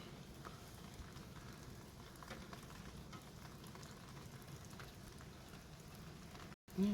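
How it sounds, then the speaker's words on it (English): Rain patters steadily outdoors in the Pacific Northwest, falling on a rusted metal hitch plate as a faint, continuous hiss that cuts out briefly near the end. "It's really raining."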